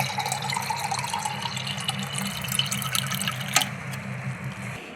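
A water bottle being filled from a tap: a steady trickle and splash of running water continues throughout, fairly quiet and close, with one brief sharp knock near the end.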